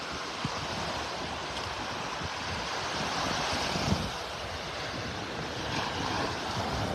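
Waves wash onto a beach in North Naples, Florida under steady wind buffeting the microphone, a continuous broad roar with a slight swell midway, fairly loud and unbroken, no voices.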